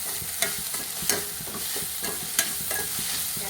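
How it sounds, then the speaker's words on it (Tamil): Carrot, cabbage and curry leaves sauté in a pan with a steady frying hiss, broken by repeated stirring scrapes and several sharp clacks of a utensil at a loose, uneven rhythm. "கட் பண்ணி வச்சுருக்க கேரட்டு, முட்டைக்கோசு, ஒரு கொத்து கருவேப்பிலை, இது எல்லாத்தையுமே நல்லா வதக்கிக்கலாம்."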